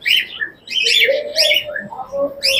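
Birds call at a pigeon market in Rajshahi city, giving several bright chirps and whistled notes in quick bursts, close and fairly loud, with short gaps between them.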